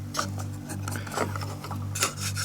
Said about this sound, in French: un petit coup de ponceuse comme ça